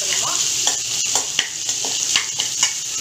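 Small pieces of boiled potato fry in a pan for masala poori filling, sizzling loudly and steadily while a utensil scrapes and stirs in repeated short strokes, with no talking.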